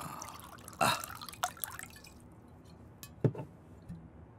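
Liquor poured into glasses at a table, a few short close splashing pours and drips with a glassy clink, separated by quiet pauses.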